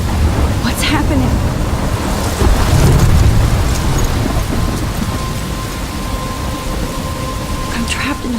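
Heavy rain pours steadily in a thunderstorm in the video game Life Is Strange, with rumbles of thunder rolling underneath, loud and continuous.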